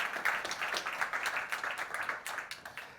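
Quiet round of applause from an audience at a community hangout event, a steady patter of clapping lasting the whole stretch without fading.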